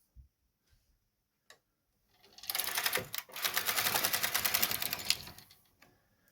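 A knitting machine carriage is pushed across for one row, giving a dense, fast run of rattling mechanical clicks that lasts about three seconds after a few faint knocks and then stops.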